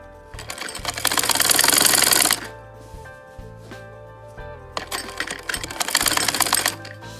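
A sewing machine stitching a frock runs in two loud bursts of rapid, whirring stitching, separated by quieter pauses with a low motor hum.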